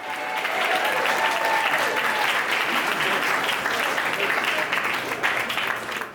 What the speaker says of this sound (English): Let's give a huge, respectful round of applause